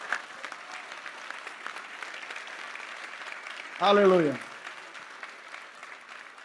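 An audience at a church family conference claps steadily in a continuous patter while a voice calls out briefly over the applause midway.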